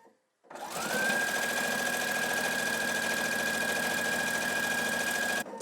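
A sewing machine stitches binding onto a mini quilt, starting up after a brief pause and then running at a steady, fast, close mechanical whir with a constant hum until it stops.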